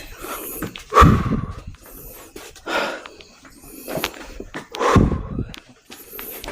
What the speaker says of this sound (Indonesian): Dan saya pun ngos-ngosan teman. Ngos-ngosan banget sih.